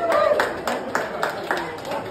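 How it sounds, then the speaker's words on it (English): Scattered clapping from a community audience at a local gathering, a handful of distinct claps falling in a loose rhythm over background voices, moderately near. "Give them all a big round of applause."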